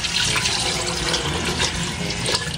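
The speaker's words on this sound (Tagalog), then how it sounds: "Lagyan ko na rin po ng tubig." Water poured into a cooking pot holding pork intestines with bay leaves, garlic, salt and pepper, a steady splashing, gushing stream heard close up and alone.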